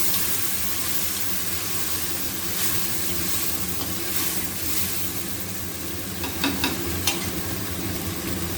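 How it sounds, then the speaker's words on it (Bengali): Spice paste hits red-fried rice in a pan for a fish-head muri ghonto, producing a steady broad sizzle throughout with a few louder crackling bursts near the end and no talk. "এই যে চালটা লাল লাল ভাজা হয়ে গেছে, এখন যে মশলাটা পেস্ট করেছিলাম দিয়ে দেব"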